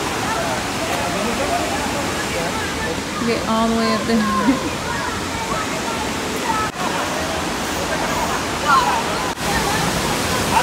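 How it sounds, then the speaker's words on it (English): A river waterfall roars steadily at close range, a dense broadband rush that continues throughout while voices talk over it. "Let's see the waterfall."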